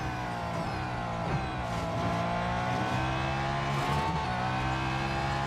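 A race car engine in Real Racing 3 holds a loud, steady, close drone, its pitch shifting slightly as the car brakes and accelerates, with no talk over it.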